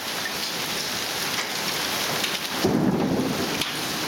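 Heavy spring rain pours with hail in a storm, a loud constant hiss, and a low rumble of thunder swells briefly near the end.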